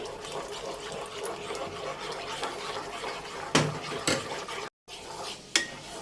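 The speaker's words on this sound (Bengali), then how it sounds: "দুধ আর কর্নফ্লাওয়ারের মিশ্রণটা আস্তে আস্তে ডালবো আর নাড়তে থাকবো" A mixture of milk and cornflour is stirred in a pot for homemade milk ice cream, giving a steady close scraping and sloshing with a few sharp clinks of the spoon against the metal.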